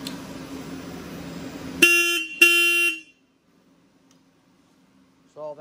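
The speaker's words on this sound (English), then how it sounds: "It's got a nice loud horn," A Royal Enfield Himalayan motorcycle horn honks loudly twice, two short close blasts about half a second apart, over a faint idling hum before everything goes quiet.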